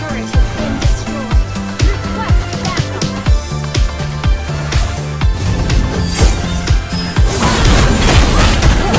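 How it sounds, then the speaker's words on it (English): A turret destroyed in the Mobile Legends video game, heard as loud crashing and booming impacts layered over steady pounding game music, with the noise swelling near the end. "Our turret has been destroyed."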